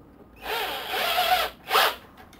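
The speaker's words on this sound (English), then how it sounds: "Just drill the one side." A power drill bores into one side of the cam hole of a GAT auto trigger, whining in a long steady burst and then a second shorter burst, close up with no talk.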